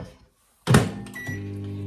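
A bowl is set down with a firm thunk inside a home kitchen microwave while making Easter millionaire's squares, followed by the oven's steady hum once it starts running.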